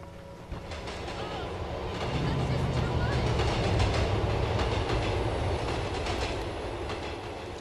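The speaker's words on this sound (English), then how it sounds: "Waiting for the trains to come through, huh?" A train rumbles past in the video game LCPDFR, a steady loud rolling roar that swells after the first couple of seconds and holds, with faint rail clatter throughout.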